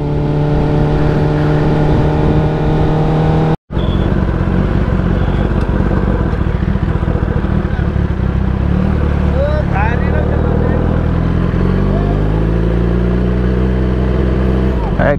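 A ZX-10R motorcycle with a loud exhaust while being ridden gives a steady, close engine drone that cuts out briefly, then resumes and climbs in pitch as the revs rise toward the end, with faint voice underneath.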